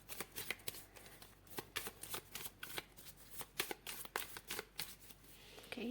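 Tarot cards shuffled by hand, a steady run of quick riffling bursts lasting several seconds, fairly close and with no talking over it.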